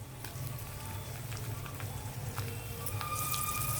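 Lentils and garlic frying in hot oil for an Andhra-style tempering, a steady crackling sizzle with scattered pops, close and continuous at low level.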